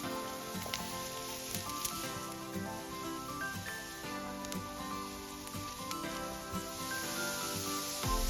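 Chopped onions and cauliflower frying in a medium-heated pan, a steady continuous sizzle with faint crackles, moderately quiet and close, with no talking.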